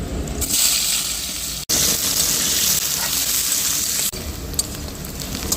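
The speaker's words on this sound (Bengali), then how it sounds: "আমি এবার শুকনো লঙ্কা আর জিরে তেলের উপর দিয়ে দিচ্ছি কুচানো পেঁয়াজগুলো দিয়ে দিচ্ছি" Chopped onions tipped into hot oil with dried red chilli and cumin seeds, a loud steady hissing sizzle that stays near and continuous with two brief dropouts.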